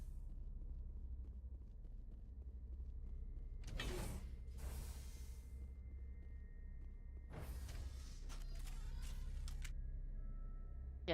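Elevator ride in the video game Mass Effect, a low mechanical hum and creaking with clanking, gear-like bursts as the lift moves, heard alone.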